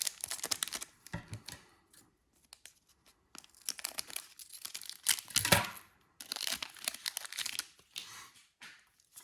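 Trading card booster packs being torn open from a display box, with bursts of foil tearing and crinkling close by, broken up by short quiet gaps between packs.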